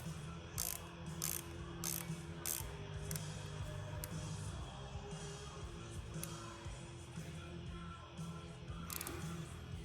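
A ratchet tool tightening the clutch or brake lever on a 2015–2023 Yamaha R1, rapid repeated pawl clicks in quick bursts across the clip, fairly quiet under a low steady hum.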